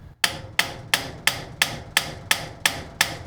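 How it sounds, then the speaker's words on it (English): A hammer taps a seized part loose on a Samsung dryer motor, nine sharp metallic strikes in an even, steady rhythm, close and loud. "if yours doesn't want to come loose very easily, just take a hammer"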